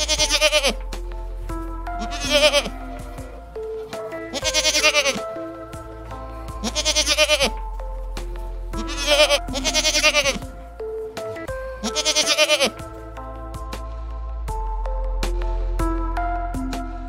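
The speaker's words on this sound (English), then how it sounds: "It is goat. Goat eats grass." Goat bleating in repeated bursts over a farm setting, loud and close, with several wavering calls separated by short pauses and a steady low background hum.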